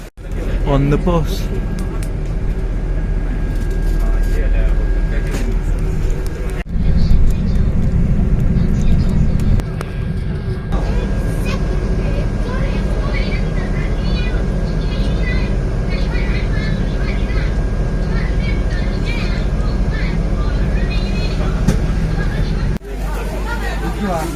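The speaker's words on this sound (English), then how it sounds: "Getting on another bus, on the bus." Inside a shuttle bus carrying travellers and their luggage to a quarantine hotel, a steady engine and road rumble runs throughout, with a murmur of passengers talking underneath and a brief louder surge partway through.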